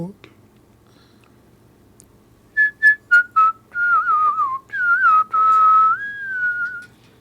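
A man whistles a melody by mouth, starting with short clipped notes and moving into longer sliding, wavering tones, clear and close against a quiet background.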